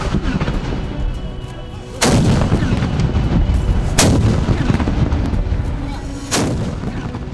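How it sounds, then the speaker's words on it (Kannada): Ceremonial cannons fire a salute during a firing drill at Mysuru Dasara. Three deep, loud blasts come a couple of seconds apart, each with a long rumbling tail over steady outdoor noise. "4 ಲಾಂಗ್ ಬ್ಯಾರೆಲ್ ಹಾಗೂ 3 ಶಾರ್ಟ್ ಬ್ಯಾರೆಲ್ ಫಿರಂಗಿಗಳ ಮೂಲಕ 3 ಸುತ್ತಿನಂತೆ ಒಟ್ಟು 21 ಬಾರಿ ಕುಶಾಲತೋಪು ಸಿಡಿಯುತ್ತದೆ."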